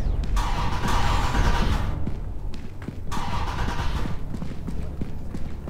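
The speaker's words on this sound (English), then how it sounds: "Why do we hear a car?" A car engine roars in the video game Content Warning, two loud rushing bursts of engine noise about a second apart, close by and with no one talking over them.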